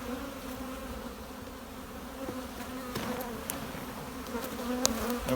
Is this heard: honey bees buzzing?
yes